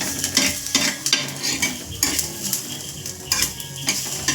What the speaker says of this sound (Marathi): त्याच्यामध्ये मी 2 कांदे आणि खोबरं भाजायला टाकले